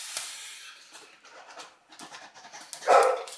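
A dog barks several times close by in short scattered bursts, the last one loudest, with no talking over it.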